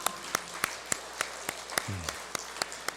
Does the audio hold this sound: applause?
yes